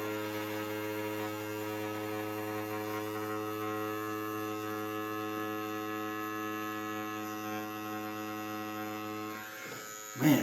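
A Hall ink tattoo machine running on 8.2 volts gives a steady electric buzz, even and unbroken for about ten seconds close to the microphone, ending in a brief clatter.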